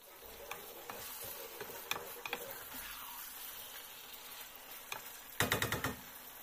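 Boneless chicken pieces fry in a pan with a soft, steady sizzle, broken by clicks and taps of a utensil stirring and a short burst of scraping near the end, quiet and close.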